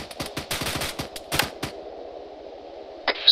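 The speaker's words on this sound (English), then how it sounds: "sporadic infantry small arms fire from the north" Infantry small arms fire in the ARMA 3 military game: rapid bursts of close gunshots crackling for about a second and a half, then a pause before a single later report.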